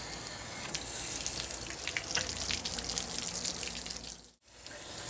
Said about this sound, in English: We're going to do this a couple times, just working it in and out and let it all drain out of there.